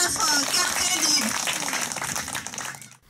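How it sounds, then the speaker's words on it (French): A studio audience applauds at an Ivorian TV show in Côte d'Ivoire: a dense, continuous wash of clapping mixed with crowd voices, holding steady before fading out at the end. "on applaudit très très fort"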